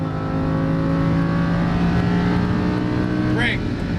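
A Lamborghini Huracan LP610-4 on a racing circuit holds a loud, steady engine drone under acceleration, with a brief higher whine near the end.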